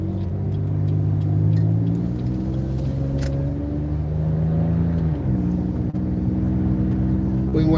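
Car engine pulling away from a turn beside a burger restaurant, a loud steady rumble with a smooth rise in pitch as it accelerates, heard from inside the cabin.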